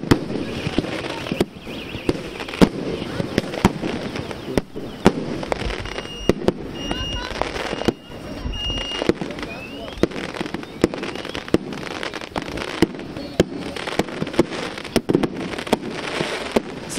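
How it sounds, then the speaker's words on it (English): Dense, continuous crackle and sharp bangs of Tibetan New Year fireworks set off across a neighborhood near Lhasa, popping irregularly throughout with faint voices in the background. "the whole neighborhood is now lighting up the sky with the fireworks"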